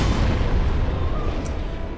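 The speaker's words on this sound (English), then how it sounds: "When it does the explosion close to its body, I believe that is actually a bigger explosion." A demon's explosion attack in the Dark Souls video game erupts as a loud, sustained, booming rumble, dense and continuous.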